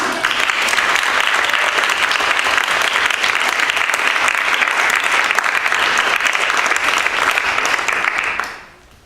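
Loud, dense applause from a theater audience at a live comedy talk event, steady for about eight seconds before quickly fading out.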